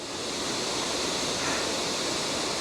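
A waterfall in Glen Nevis, Scotland, roars steadily throughout as a dense, broadband rush of falling water, loud and close, with no voices.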